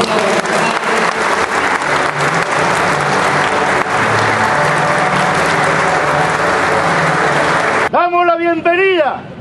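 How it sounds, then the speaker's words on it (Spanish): Loud, dense applause from a ceremony audience at a municipal anniversary session in Casa Grande, steady for about eight seconds before a voice begins speaking over the fading claps. "Vamos a dar un fuerte aplauso por el esfuerzo."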